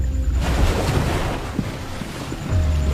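Ocean waves surge and wash around a raft and a sinking container far out at sea, a loud, continuous churning rush of surf and water with gusty wind noise throughout.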